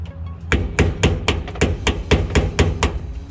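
Regular hammer blows, about ten sharp strikes in a steady rhythm, close and loud, ringing like metal being struck, during work on a turbocharged LS-engine Chevy Malibu.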